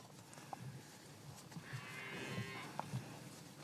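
Cattle on a French farm low several times at moderate distance, with scattered moos over steady outdoor background noise.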